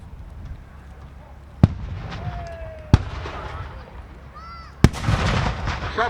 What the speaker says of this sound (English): Shots being fired back and forth between the two.